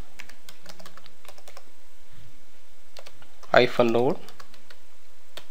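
Typing a command on a computer keyboard: scattered crisp key taps spread across the clip at a moderate pace, close and fairly quiet, with a short spoken word in the middle.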